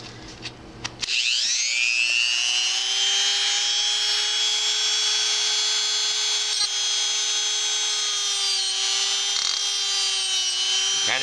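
Stacked triple cutter blades spin up and cut a bevel into a brass bathtub strainer, a steady loud high-pitched metallic whine holding continuously after a brief start.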